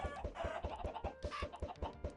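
Minecraft chickens cluck in quick, repeated bursts, a dense run of short clucks and squawks at moderate volume with no talk over them.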